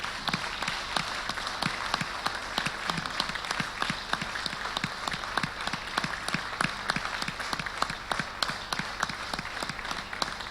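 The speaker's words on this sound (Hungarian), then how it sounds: "Bagdi László, nagy tapsot kérünk neki!" Sustained applause from an audience at a literary evening in Békéscsaba, as an honoree is called up for an award; steady, dense clapping continues throughout without pause.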